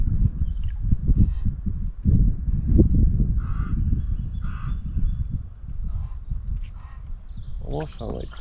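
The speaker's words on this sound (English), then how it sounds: "Almost sound like crows. Could be crows." Crows caw in the wilderness, with several spaced calls, mostly distant and fairly faint, over wind or movement noise outdoors.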